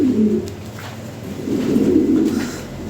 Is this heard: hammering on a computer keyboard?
no